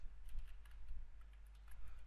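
Quiet, steady keystrokes on a computer keyboard, a run of light, irregular clicks close by over a low hum, with no voice present.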